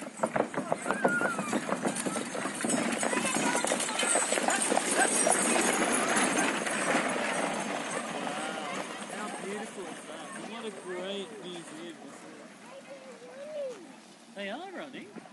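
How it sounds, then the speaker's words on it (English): Clydesdale horses pulling a stagecoach clip-clop in a steady rhythm as they pass close by, with people talking over the clatter. "Beautiful Clydesdale horses."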